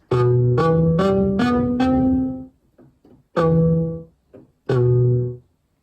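A dry, plain Korg MS-20 Mini analog synthesizer with all effects off plays short stepped notes in quick succession, then two separate held notes after pauses, with no reverb tail.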